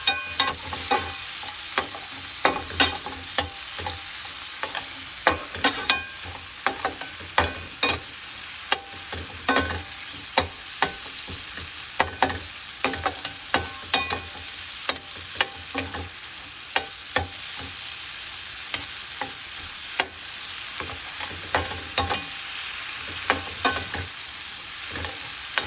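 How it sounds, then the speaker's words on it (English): Tomatoes frying in a pan with ginger and garlic, a steady sizzle throughout, broken by frequent scraping stirs of a utensil against the pan and no talk. "let's let the tomato cook a little bit before we add them"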